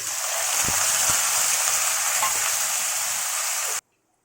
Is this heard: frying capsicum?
yes